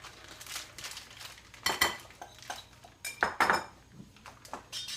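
Batter stirred in a mixing bowl by a child, clinking and scraping of a utensil against the bowl in uneven bursts, close and fairly quiet, with no talk.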